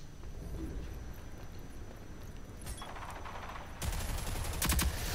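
Quiet background ambience in the video game Rogue Company, then a burst of rapid gunfire near the end, sharp and clattering over game noise.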